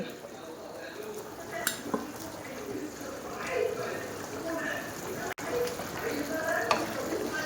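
Chopped bitter gourd fries in a pan with a low, steady sizzle and occasional stirring clinks, while a voice talks quietly over it.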